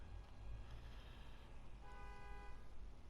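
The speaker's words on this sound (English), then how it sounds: "Peeping car horns and lorry horns and whatever" Car and lorry horns as environmental effects in Train Sim World on a New York route, a faint horn toot sounding over a steady low rumble of distant traffic.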